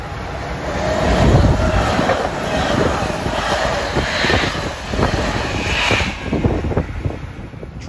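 A high-speed passenger train on the Northeast Corridor, cab car leading, passes with a loud, broad roar and dense rolling rumble that swells and holds for several seconds.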